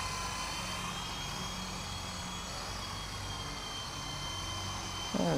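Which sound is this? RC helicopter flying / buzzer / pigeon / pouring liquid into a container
RC helicopter flying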